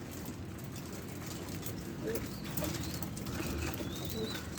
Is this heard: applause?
no